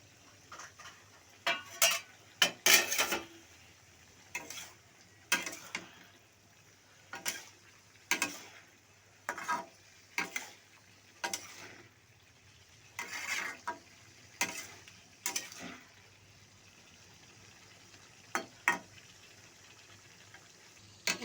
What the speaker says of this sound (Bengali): এবার একটু নেড়ে চেড়ে নিলাম